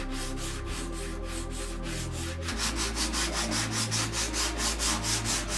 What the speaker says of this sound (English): I could have kept sanding to get rid of those casting imperfections